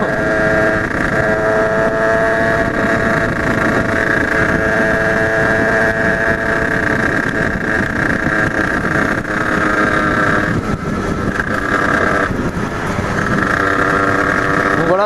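A DRD 70 Italkit motorcycle engine drones steadily while riding, a continuous buzzing note with shifting pitch as the throttle changes, loud and close with wind rushing over the microphone throughout.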